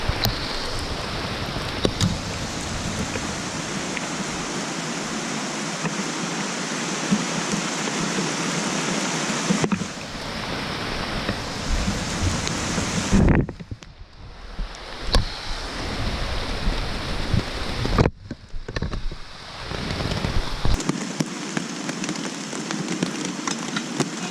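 Steady heavy rain hisses continuously on a tarp overhead, with a few abrupt changes in tone and brief quieter moments, like a downpour drumming on a covering nearby.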